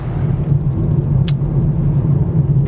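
Car driving along the Hutt Road beside the Wellington Fault, a steady low engine and road rumble close by throughout, with one brief higher hiss partway through.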